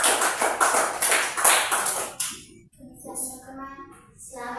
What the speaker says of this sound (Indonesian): Ya, tepuk tangan untuk kelompok salut.